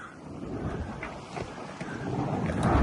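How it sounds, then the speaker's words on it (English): Light wind blows across the microphone on a sailboat at sea, a steady broadband rush with faint water movement, swelling slightly toward the end, with no one talking. "We got a little bit of wind."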